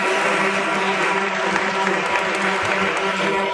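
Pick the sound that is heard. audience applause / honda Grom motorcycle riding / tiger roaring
audience applause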